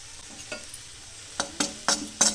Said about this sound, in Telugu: శనగపిండి కొంచెం పచ్చివాసన పోయే వరకు వేయించుకొని